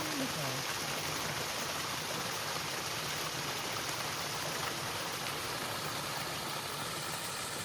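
A small waterfall spilling across a hiking trail on the Appalachian Trail makes a constant, loud, close rush of splashing water, steady from start to finish with no clear breaks.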